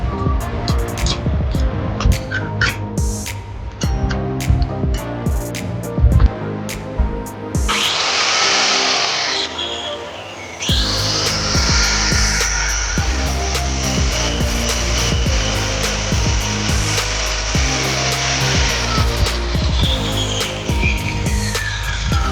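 HiKOKI CM 5SC 5-inch, 1400-watt marble cutter running steadily and loud throughout, with shifts in pitch and load suggesting cuts into hard material such as marble or hollow brick.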